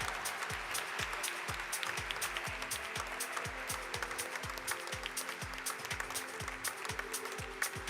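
A crowd applauds Pragya Kaul at the Eureka Forbes Limited stock listing ceremony, with continuous clapping over a steady rhythmic music beat.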